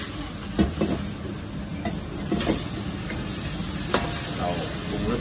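Massaman curry paste and cashews stir-fry dry in a hot pan at a Thai takeaway kitchen, with a steady close sizzle punctuated by several scraping stirs of the spatula.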